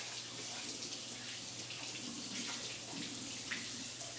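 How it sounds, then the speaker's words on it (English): Steady running tap water splashes over hands at a kitchen sink, a soft continuous wash that sounds fairly close with a low hum underneath. "I'm gonna give my hands a little wash."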